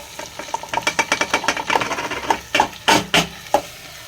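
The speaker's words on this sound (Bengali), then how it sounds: "এবারে আমি সাবুদানাগুলো দিয়ে দিচ্ছি" Sago pearls tumbling into a cooking pan, a rapid run of small rattling, clicking impacts that thins into a few louder scattered taps, close and alone without talk.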